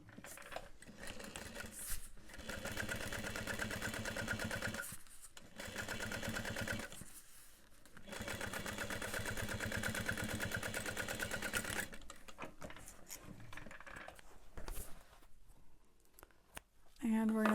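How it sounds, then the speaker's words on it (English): A sewing machine top-stitches through a vinyl accent on a backpack in quiet bursts of rapid, even whirring, separated by brief pauses, with a person talking over part of it. "We're going to top stitch that up"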